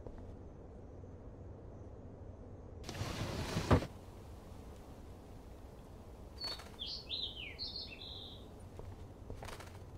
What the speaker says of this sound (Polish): Czekaj, ptaszku, otworzę okno i cię wypuszczę.